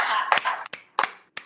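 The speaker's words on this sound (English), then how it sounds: "And then we're gonna clap." A few sharp, close hand claps during a mindfulness self-tapping movement exercise, spaced unevenly with short silences between them. A voice is briefly audible at the start.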